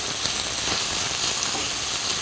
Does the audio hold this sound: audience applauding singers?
no